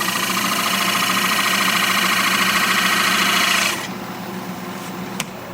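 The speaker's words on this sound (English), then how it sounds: "Turn your lathe speed up." A wood lathe spins at high speed with a steady, loud mechanical whir and rattle, then drops abruptly to a quieter hum as it winds down, with a brief click near the end.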